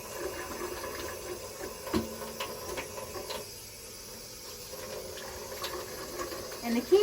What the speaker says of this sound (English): So I'm letting my water get nice and warm.